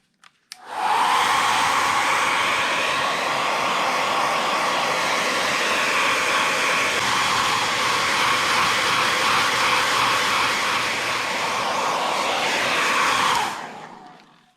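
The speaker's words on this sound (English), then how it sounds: "oftentimes I go over them with a hair dryer just to dry them out a little bit" A hair dryer blows steadily over a crappie fish being prepared for a replica mount mold, a loud continuous whoosh that starts abruptly and runs nearly fourteen seconds before cutting off, with no talking.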